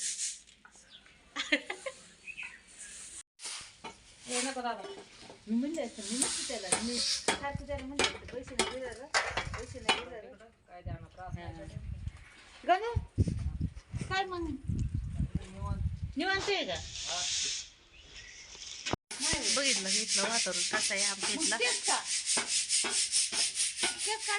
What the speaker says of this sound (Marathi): दीदी आपल्या चार भांडे घासायला लागले चहाचे